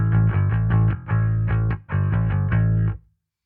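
A bass guitar runs through a Leo bass amp with a vintage Peggy 8x10 cabinet simulation, playing three loud, thick, grinding phrases of repeated notes with short breaks between them, then stopping cleanly.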